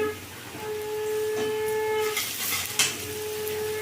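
Grated garlic sizzling in hot oil with partly fried onions, a steady close hiss of frying that swells briefly in the middle.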